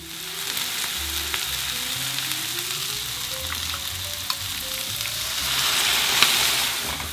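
Nagasaki-style pork and seafood noodles fry in a wok with a continuous loud sizzle and scattered crackles, carrying on steadily and swelling toward the end, with no one speaking.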